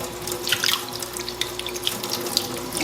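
Kitchen tap running steadily into a sink while curly kale is washed, a constant close splashing stream with small drips and spatters on top, no voices.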